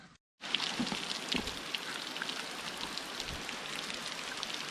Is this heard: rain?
yes